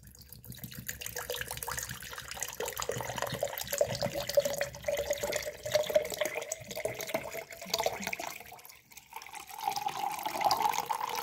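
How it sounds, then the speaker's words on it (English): Water runs steadily into a container for a blueberry-flavoured Prime hydration drink, a continuous close pouring and trickling sound that holds for about eleven seconds without any talk. "Now we add 500 milliliter water."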